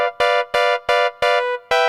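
A synth in Logic runs through a 24 dB low-pass filter, playing six short, bright, buzzy chord stabs in a quick, slightly uneven rhythm, each cut off cleanly, with no voices.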